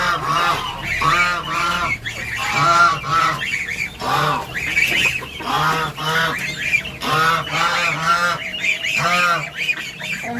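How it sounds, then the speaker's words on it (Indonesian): Geese at a village pond setting honk loudly and repeatedly in close, overlapping calls, a noisy chorus of harsh nasal honks that continues without pause across the scene. "Nah, ada angsa juga ataupun soang kalau kata orang Sunda mah."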